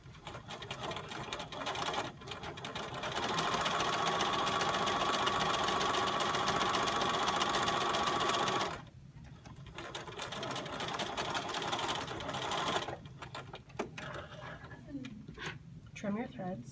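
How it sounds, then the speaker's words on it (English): A sewing machine backstitches a French seam, its motor running in a steady, close whir for several seconds, then pausing briefly before resuming in shorter, uneven runs. "I'm going to backstitch at the beginning and the end."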